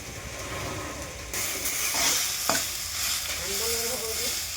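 Spinach sautés in a pan with a close, steady sizzle and hiss, joined by scraping stir strokes and a sharp utensil knock partway through. No one speaks.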